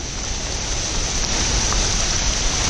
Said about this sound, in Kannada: ಕ್ರೇಜಿಯಾಗಿ ಮಳೆ ಬೀಳ್ತಿದೆ.